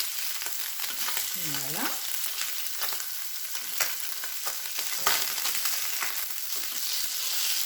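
Fish browning in a hot pan, a steady, close crackling sizzle that runs the whole time with small stirring clinks, and one brief spoken word over it.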